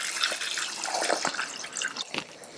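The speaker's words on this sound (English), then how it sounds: "add double the amount of water." Water runs and splashes into a saucepan for a couple of seconds, with light drips and bubbling, close by and steady, no voices.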